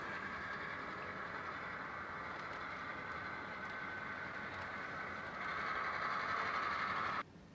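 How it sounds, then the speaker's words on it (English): A model railroad locomotive runs steadily along the track on a layout with crossing gates, giving a continuous mechanical whir and rail rumble at close range that swells briefly near the end before cutting off abruptly. "Let me get the locomotive back through here and out of the way."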